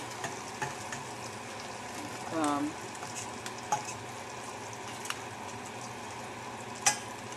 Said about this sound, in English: You just turn it as it's cooking, and then just leave it alone so it can brown up.